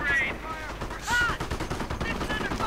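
Gunfire and machine-gun bursts from a World War II real-time strategy game, with rapid overlapping shots and small explosions forming a continuous, busy battle din at steady loudness throughout.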